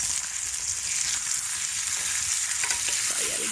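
Sweetbreads sizzling hard on a hot barbecue while being stirred, a loud constant frying hiss with faint scraping and clinks near the end, close up and without talking.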